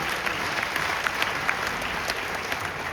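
Loud, continuous applause from the audience at a comedy event, a dense wash of many hands clapping evenly throughout with no voices above it.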